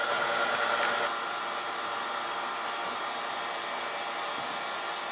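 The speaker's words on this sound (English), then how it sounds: "So after an hour on the vacuum pump" A vacuum pump runs on a car's AC system on a 300Tdi, giving a steady, loud whirring drone that holds constant throughout, with a slightly louder start.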